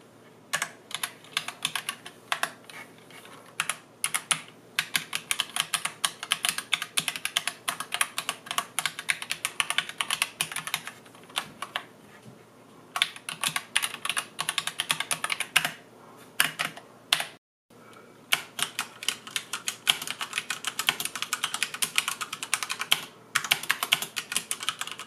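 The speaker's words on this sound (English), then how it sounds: "if you do bottom out the keys like I do, you can hear how loud it is when compared to the Asus ROG Strix Scope TKL" Fast typing on a Deepcool KG722 mechanical keyboard with Gateron red switches, keys bottomed out, giving a dense stream of loud, close clacks with a few short pauses and no talk.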